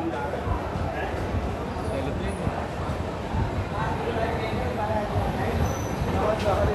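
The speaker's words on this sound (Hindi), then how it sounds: "चलिए ट्रेन खुल भी गई 2 मिनट रुक के, मात्र 2 मिनट रुकी और निकल गई अपनी ट्रेन।" The 22318 Jammu Tawi–Sealdah Humsafar Express pulls out of platform 1 at Bareilly station with a steady low rumble, while someone talks over it throughout.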